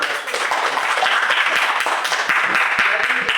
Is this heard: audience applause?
yes